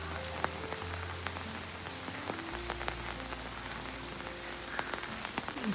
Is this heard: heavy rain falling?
yes